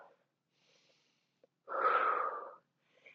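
A single loud, drawn-out inhale lasting under a second during a floor twist stretch in an intermediate ring workout, with near silence before and after.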